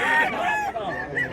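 A rooster at a rural chicken market in Mantalungon, Cebu, lets out a single short, loud crow with clucking tones. It sounds close and fills the brief moment.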